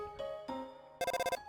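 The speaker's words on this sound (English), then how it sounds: "Ring, ring, ring." A phone rings inside the video game Undertale, with two soft electronic chimes followed by a quick, fluttering trill of tones, all fairly quiet and alone.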